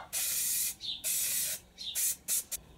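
Anti-spatter spray hissing from an aerosol can onto steel before welding, several loud close bursts of varying length separated by short pauses, with no talking.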